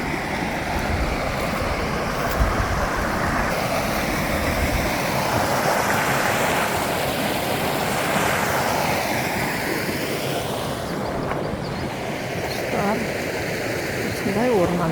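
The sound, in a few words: mountain spring stream flowing in a forest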